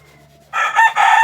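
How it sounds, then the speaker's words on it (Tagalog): A rooster crows loudly and close by on a farm with many chickens, one strong ringing call rising sharply after a quiet moment and holding to the end. "Ay, manok na naman."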